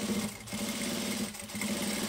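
A sewing machine stitches a seam while a fabric bag is sewn from scratch, giving a steady, close, fast mechanical hum and rattle that runs continuously with two brief dips.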